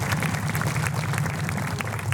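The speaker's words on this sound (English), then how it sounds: "Some big rounds of applause for all of their sponsorship this season." Audience at a municipal band season finale concert applauds the band's sponsors, with a steady wash of clapping held at an even level throughout.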